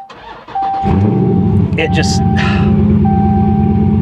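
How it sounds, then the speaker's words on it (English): A high-mileage Dodge Scat Pack with about 134,000 miles starts up and its exhaust barks into a loud, steady idle and rev. The engine sounds close, and a voice speaks briefly over it. "I do like to get on it because the exhaust just sounds so good"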